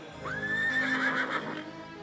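A white mare gives a single clear, rising whinny lasting about a second, loud and close, over a low steady background.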